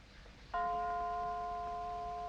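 A clock chime in a 1943 Sherlock Holmes mystery film scene: one clear bell-like strike that rings out and sustains with a long, steady tone after a quiet moment.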